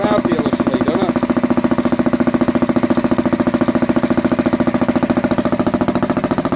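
An old Barford Atom tractor engine, running for the first time in years, chugs steadily at close range with an even, rapid, thumping beat that stays constant throughout.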